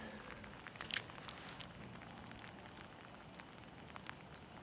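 Quiet, steady patter of rain on a fishing spot's water and nearby surfaces, soft and continuous with a few sharper drips standing out.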